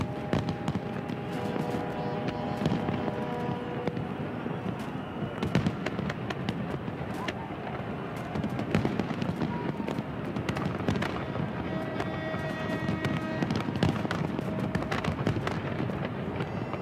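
New Year fireworks over the River Thames in London, a huge millennium display, crackling and booming continuously with dense bursts and sharp pops layered over a steady roar of crowd and explosions.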